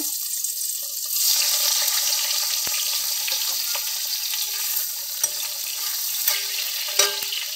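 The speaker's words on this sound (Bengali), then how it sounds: "এই যে বেগুনগুলো আগে ভাজা করব।" Oil sizzles steadily in a pan as eggplant fries, a bright continuous hiss with occasional pops and clicks, close by.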